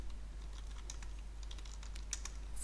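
Rapid, light keystrokes on a computer keyboard, soft clicks in short clusters over a low steady hum, with no voices.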